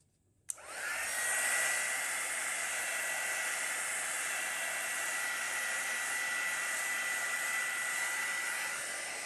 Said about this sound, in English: I'm just going to hit it with the heat embossing tool